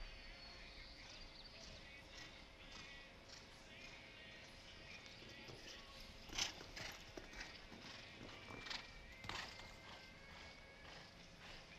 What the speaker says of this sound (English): This is a super horse.